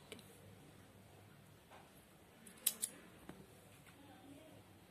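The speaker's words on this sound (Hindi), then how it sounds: "और एक चेन बना के मैं ये धागा काट दूंगी।" Scissors snipping crochet thread during doll-dress making, a couple of sharp close clicks over a quiet room, with faint ticking before and after.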